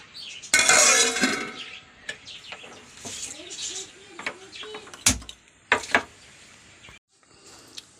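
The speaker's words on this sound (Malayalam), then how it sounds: "അപ്പോൾ മൂടി വയ്ക്കാം" Metal clinks and clatters as a lid is set onto a pot of fish curry broth, a few sharp knocks among quieter kitchen sounds, with birds chirping faintly.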